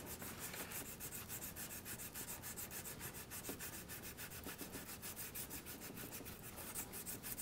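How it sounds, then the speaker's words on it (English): Sandpaper rubs on an aluminum coolant pipe with steady, rapid back-and-forth strokes, a quiet, close, rhythmic scratching that continues throughout without any talk. "Once I get it polished down to the aluminum with the sandpaper"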